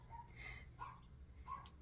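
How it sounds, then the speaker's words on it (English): A small puppy lets out several faint, high yips and whimpers some distance away, spaced across a quiet room with no speech. "Apologies for the barking puppy."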